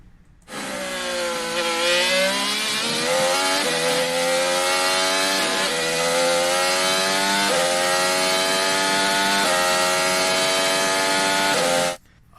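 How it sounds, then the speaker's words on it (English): Current-generation Formula 1 V6 turbo hybrid engine at high revs on a 2018 pole lap in France, a loud, continuous, harmonically rich whine rising in pitch and dropping sharply at each gear shift for about eleven seconds. "This is from Lewis Hamilton's pole lap in France in 2018."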